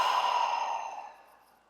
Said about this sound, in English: Last one, inhale. Open mouth exhale.